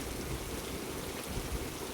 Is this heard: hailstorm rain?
yes